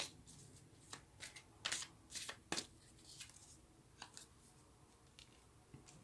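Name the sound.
shuffling tarot cards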